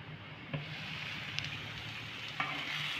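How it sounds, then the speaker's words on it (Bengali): Mango pieces fry and sizzle softly under a lid in a pan on low gas for a sweet, sour and spicy mango pickle, giving a faint steady crackle with a few small pops. "দিয়ে আমটাকে কিন্তু খুব ভালো করে আমরা ভেজে নেবো"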